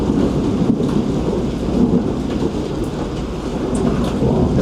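Thunder rumbles beside a bridge over the Panama Canal, a broad, continuous low roar mixed with steady rain-like hiss, loud and unbroken throughout, with no talk.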